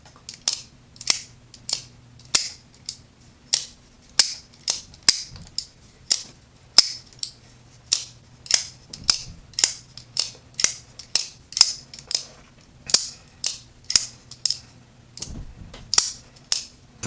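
A Kershaw Iridium folding knife with aluminum handle scales is flicked open and snapped shut over and over, crisp metallic clicks in a quick steady rhythm, close up with no voices.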